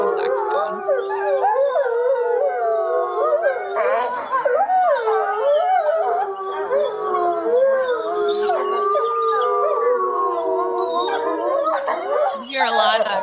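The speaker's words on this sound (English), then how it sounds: "So this is kind of another example of a pack howl." A wolf pack howls in chorus, high-pitched squeaky yips and wavering cries from young pups mixed with lower, steadier adult howls, loud and continuous throughout.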